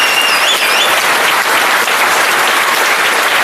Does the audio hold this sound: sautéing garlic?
no